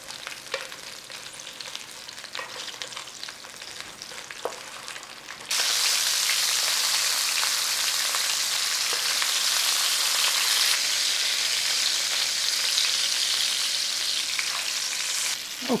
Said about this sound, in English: when you've got a little bit of browning on those sausages, out they come